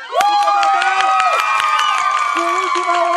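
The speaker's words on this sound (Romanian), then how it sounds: "Și aplauze odată!" A campaign rally crowd claps and cheers loudly, with shouting voices and a dense wash of applause lasting the whole moment.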